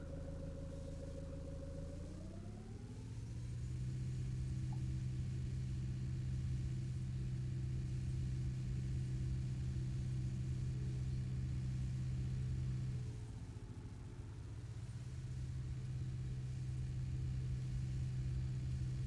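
A mountain tractor in Farming Simulator 19 drives along with a steady mid-pitched engine drone that climbs in pitch early on, holds a constant rumble, briefly dips and then settles again, loud and continuous with no voices.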